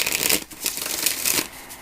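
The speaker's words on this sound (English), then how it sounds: "So shuffling the cards here." Tarot cards being shuffled by hand, a steady run of crisp riffling and flicking that swells in short bursts, close and fairly loud, with no talking.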